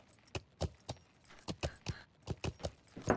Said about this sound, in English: Nah, I could swear I just heard a horse outside the west gate.